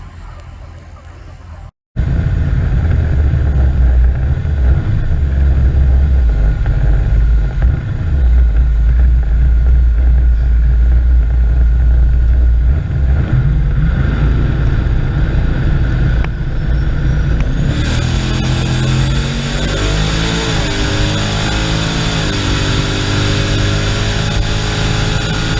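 A turbocharged 1980 Pontiac Trans Am makes a drag-strip run, heard from a distance as a loud, sustained engine roar with wind rush. The roar builds and then trails off, followed by rising whine-like tones near the end, with people talking in the background.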